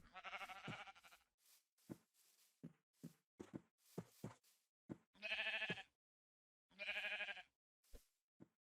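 Sheep in the Minecraft video game bleat several times in short, distinct calls, with soft knocking steps scattered between them and no one talking.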